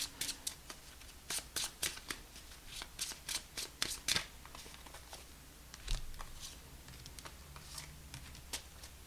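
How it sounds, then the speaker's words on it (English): Tarot cards shuffled and slid off the top of a deck, a quick run of crisp papery riffles and flicks up close, then softer scattered handling toward the end. "Off the top of the deck, first 3 cards."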